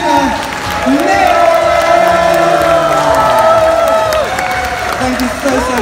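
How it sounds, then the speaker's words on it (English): A convention crowd at UK PonyCon 2024 cheers and applauds the race winners, clapping spread through the room beneath loud overlapping voices and whoops, steady for several seconds. "Let's give it up for our racers and a big cheer from our first place winner, Nick."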